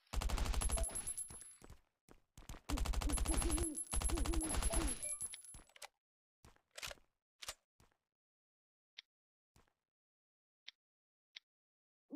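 Gunfire in the Last Island of Survival video game rattles out in two rapid automatic bursts, followed by scattered single shots and clicks fading into sparse, isolated reports.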